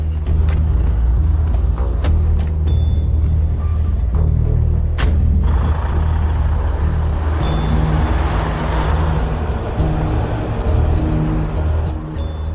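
HR 116, a modern heavy wrecker tow truck, is driven along, its deep diesel engine rumbling steadily and close throughout, with clunks, rattles and sharp cab noises on top.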